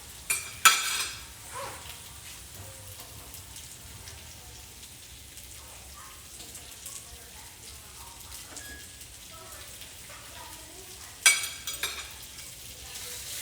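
Smoked sausage fries in a pan with a soft, steady sizzle and crackle, punctuated by a couple of louder clattering stirs near the start and end.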